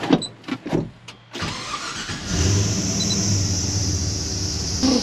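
Turbocharged LS1 V8 in a Nissan GU ute cranking after a few knocks, catching and settling into a loud, rumbling idle close by, with no talking.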